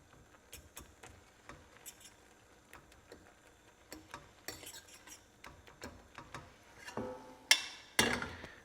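A utensil half-mashes cooked food in a pan, making quiet scattered clicks, taps and soft scrapes that grow louder and busier toward the end, with no one talking.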